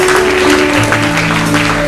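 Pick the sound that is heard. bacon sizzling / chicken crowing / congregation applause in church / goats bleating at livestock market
congregation applause in church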